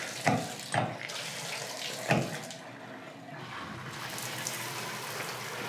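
Water running from an inspected faucet and draining away in a Florida home, a steady close hiss with a few louder splashes early on; no talking.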